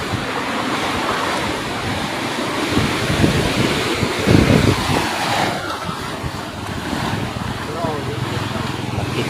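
Large ocean waves crash and surge along the sea at Caraga, a steady broadband wash with wind buffeting the microphone and a heavier break midway, while people talk now and then over the surf.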